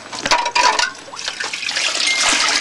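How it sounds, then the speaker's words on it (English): Water pours from a pipe through a sluice box and splashes into a plastic bucket, a steady close rushing and gushing flow that carries on without talk. "if the water comes out the pipe, flows to the sluice box, and drops into a plastic bucket"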